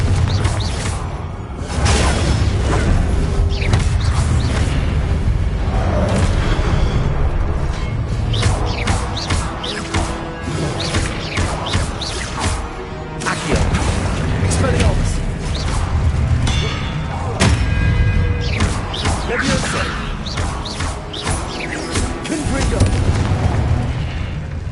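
The Confringo spell in Hogwarts Legacy sets off loud, dense blasts and booms with whooshes, crackling and clanging impacts, sustained through a long stretch of combat.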